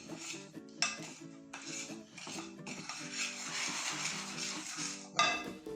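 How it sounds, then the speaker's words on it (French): A utensil stirs an almond cream mixture in a bowl, giving repeated clinks and scrapes in an irregular rhythm, near and fairly quiet, with no talking. "remuer le tout."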